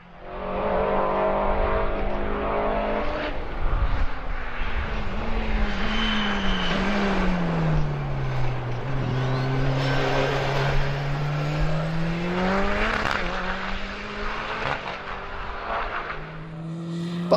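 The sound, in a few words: Westfield race car on track, Super Lap Scotland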